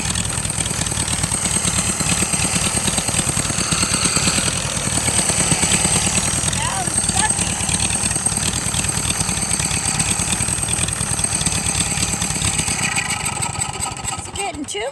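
Tractor engine with a homemade cardboard carburetor gasket running rough and choking, a loud continuous uneven chugging throb close by, with people talking over it.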